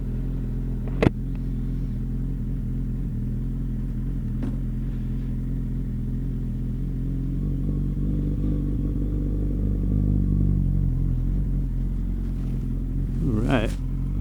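A 1997 Suzuki Bandit 1200 motorcycle runs steadily, its engine rumble low and constant, swelling a little as it pulls away, with a sharp knock near the start and a brief rising whine near the end.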